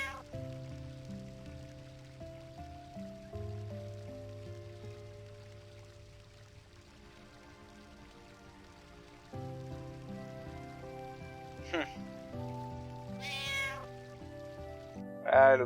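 A cat meows in the Final Fantasy IX video game, a short cry near the end over sustained game music with soft rain-like ambience beneath.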